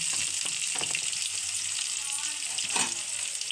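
Onion and green chilli sauté in a pan, a steady hiss of frying with occasional stirring scrapes and clinks throughout, close and fairly loud with no talking.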